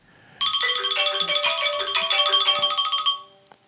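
A phone rings with a bright electronic ringtone, a loud trilling tone that holds for about three seconds before cutting off, with no voices.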